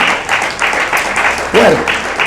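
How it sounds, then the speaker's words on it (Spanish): Church congregation applause, loud and close with rhythmic bursts of clapping, while a voice briefly calls out over the clapping. "Fuerte el aplauso a la gloria del Señor"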